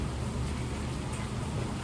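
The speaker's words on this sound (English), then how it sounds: "Ooh, this is a downpour now, baby." Heavy downpour, a dense continuous hiss of rain pattering on surfaces with a low rumbling undertone, steady and close with no voices.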